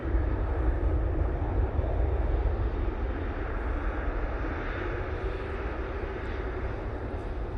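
A Cathay Pacific Boeing 777 at Manchester Airport moves along the far side with a steady, broad jet engine roar that holds evenly throughout, fairly distant and with no talk.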